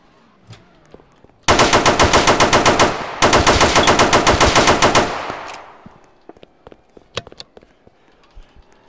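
Rapid automatic gunfire in a Roblox game, two loud sustained bursts of about a second and a half each separated by a brief gap, then fading into scattered faint clicks and clacks.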